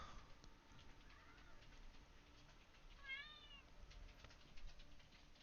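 A kitten meows a couple of short, rising-and-falling times, fairly close but soft, over a low steady background hum in an indoor room.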